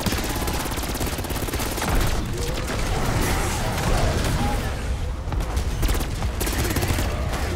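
An airstrike rains down in Black Ops 6 Zombies on the Terminus map, a dense continuous barrage of gunfire and explosive booms filling the whole stretch, with a voice talking over it.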